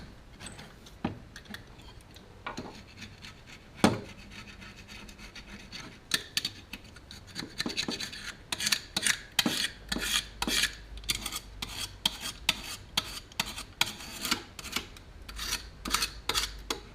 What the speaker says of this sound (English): So you get the picture cleaning the surfaces.